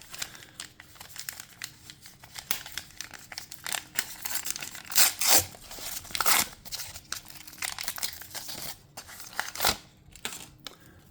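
A 1990 Upper Deck baseball card pack has its wrapper crinkled and torn open up close: repeated crackly crinkles and short ripping bursts come in uneven clusters over about eleven seconds, with no voices.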